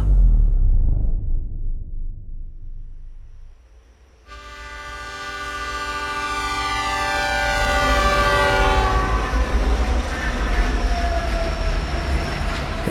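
A train rumbles loudly and close, and after a brief dip a long, sustained horn blares out over the steady rolling clatter of the cars on the rails.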